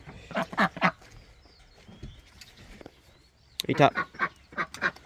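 Ducks quack in short bursts while being hand-fed on a homestead in Tasman, New Zealand, the calls close and clustered in two groups with a voice talking between them.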